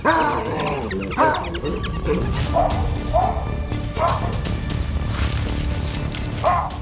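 Wild dogs yelp and bark repeatedly while fighting a baboon, short high cries scattered across the clip, close and loud, with a narrator's voice over them.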